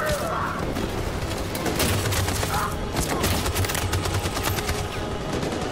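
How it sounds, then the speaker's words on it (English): Machine gun fire rattles in the video game Detroit: Become Human, with rapid, sustained bursts of sharp shots over a constant din of battle. "That machine gun is taking down everything that moves."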